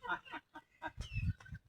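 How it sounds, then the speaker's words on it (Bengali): A native village hen clucks in short, close bursts while being fed at a household, with a few low thumps and rustles in between. "মুরগিটা খাবার দিতেছে।"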